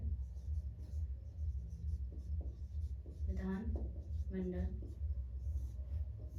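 Chalk scratches across a classroom blackboard in short strokes and taps while a teacher speaks over it, the scraping close and steady beneath the voice.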